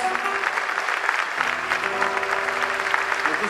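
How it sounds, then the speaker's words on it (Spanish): A festival crowd in Plaza Huincul applauds steadily, a dense, even wash of many hands clapping at moderate distance, with a faint sustained musical tone underneath and no break in the clapping. "Muchísimas gracias por esos aplausos"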